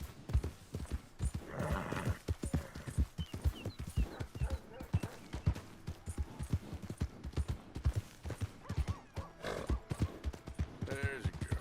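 Steady clip-clop of horse hooves trots along at an even rhythm in Red Dead Redemption 2, with voices talking over it and a brief whinny.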